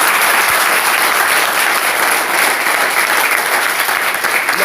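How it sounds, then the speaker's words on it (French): Loud, dense applause from a church congregation clapping for the Lord, an even wall of clapping hands that stays steady from start to finish. "Applaudissons pour le Seigneur"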